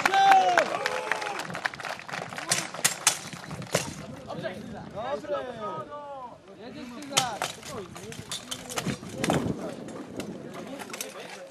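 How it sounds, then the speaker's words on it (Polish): Crowd applauding at a longsword tournament, bursts of clapping under a loud announcer's voice, with a second wave of applause later on. "brawa dla nich, brawa!"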